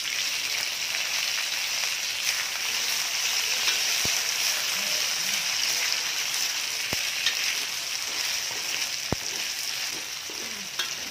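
Fish frying in a hot pan with chili, a steady loud sizzle and crackle throughout, with a few sharp clicks and stirring sounds, no talking.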